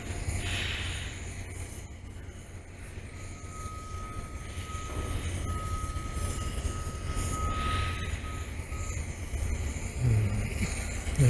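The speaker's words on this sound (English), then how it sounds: "There's the train." A train rumbles past at a distance near a shipping lock, a steady low roar with a faint sustained tone, heard in a quiet outdoor setting without talk.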